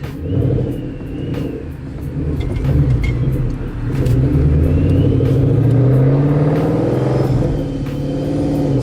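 A car engine revs and rumbles throughout, loud and close, its pitch rising and falling as the driver works a manual clutch through the gears while driving.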